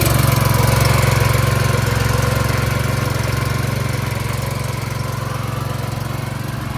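A gas-powered AR-45 soft wash pump engine runs steadily at a loud, close drone with a strong low hum and rattling texture, slowly easing slightly in level with no voices.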